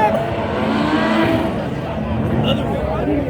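A small racing car's engine roars loud and close in a continuous, buzzing drone, with indistinct voices mixed underneath.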